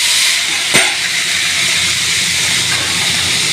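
Ginger paste and green chillies hit hot oil in a frying pan, giving a loud, steady broadband sizzle with a brief sharp crackle near the start.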